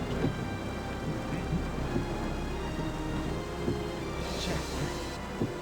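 Steady rainfall hisses continuously, with a low distant rumble underneath and no voices.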